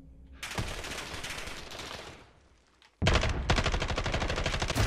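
An LMG without a stock, fired in Call of Duty Modern Warfare: two long, loud bursts of rapid automatic fire with a short lull between them.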